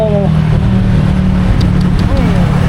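Cars speeding along a Thai street at night, a loud continuous traffic rumble with engines passing close by, under someone talking.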